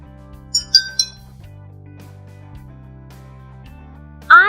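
Drinking glasses holding different amounts of water, struck to make music: three quick bright clinks of varying pitch, then a louder ringing tone near the end, over a soft sustained musical background.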